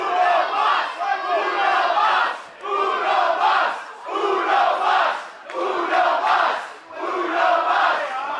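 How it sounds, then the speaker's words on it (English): Wrestling crowd at a pro wrestling show chanting and cheering in rhythmic bursts, loud and close, swelling and dipping in regular waves of roughly a second and a half. "the dive bomb is a little too concerned with the crowd's ovation."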